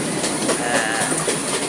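A train running on rails, loud and close, with continuous rumbling and rhythmic clickety-clack of wheels over joints throughout.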